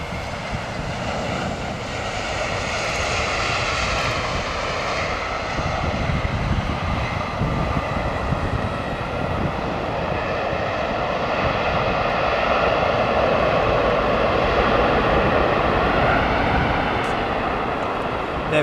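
A Delta Airlines Boeing 757 airliner's engines roar past in heavy rain, a sustained loud whine and rumble that slowly swells and shifts in pitch over nearly twenty seconds, with no clear voices.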